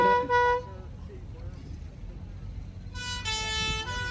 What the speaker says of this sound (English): Let's hear all your horn.